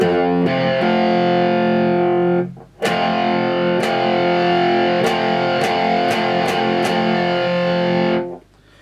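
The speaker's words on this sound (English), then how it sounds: "So you formulated this power chord shape, this chord shape here." A loud distorted electric guitar power chord is struck and rings out, then strummed again repeatedly with sharp attacks, a thick buzzing sustain filling the clip.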